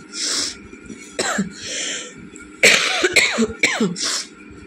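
Several harsh coughs and throat-clearing bursts from a person with a bad cold and sore throat, coming in irregular clusters at close range with short pauses between them, no talking.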